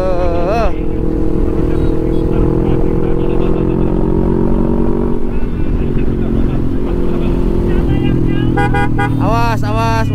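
Busy road traffic with many cars and motorcycles, including an Expander, passing close by; engines drone steadily, a horn toots near the start, and several sharp honks sound toward the end.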